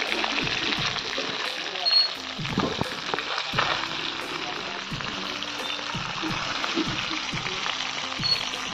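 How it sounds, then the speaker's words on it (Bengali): Fish, coated in spices, frying in hot oil in a kadai for a Bengali small-crab curry: a continuous loud sizzle with crackling bursts and a few stirring or turning clunks, close by. "মাছটা ভাজা হচ্ছে, দেখুন।"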